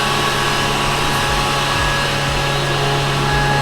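Brewery centrifuges running in a steady, loud, dense whirring roar with a low mechanical hum, unbroken and close by.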